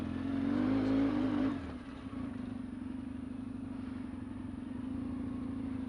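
An off-road car climbs a wet slope in a Belgian trail setting, its engine a steady mid-pitched drone. A brief rev at the start drops back to an even, constant hum that holds close for the rest of the stretch.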